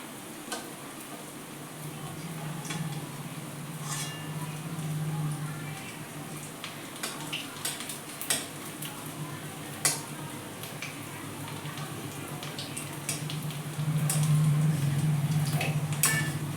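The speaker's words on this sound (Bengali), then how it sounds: "আমি এই রোলটা একটু ভাজতে হবে।" A roll made with ash gourd leaves fries in a little oil, giving a steady close sizzle and hiss with scattered pops and faint utensil ticks, swelling louder toward the end.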